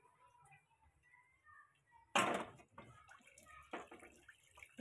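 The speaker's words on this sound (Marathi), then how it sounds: "अजून थोडं पाणी घालू याच्यात." Water poured into a cooking pot of potatoes and val beans being cooked for a Marathi home meal, a short burst of splashing pouring in the middle, amid quiet kitchen background.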